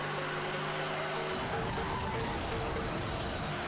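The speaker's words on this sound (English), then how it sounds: "This dude driving a Lambo." Sports car engine droning steadily in Need For Speed, a Lamborghini on the move with a continuous loud roar, faint tire noise and game background sounds.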